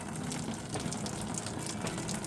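Rain falling at an abandoned house under renovation, a faint, steady wash of water with soft splashing that swells slightly, with no voices over it.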